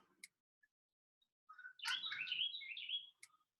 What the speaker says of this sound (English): Are the birds that annoying?